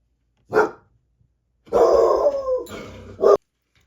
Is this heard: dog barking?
yes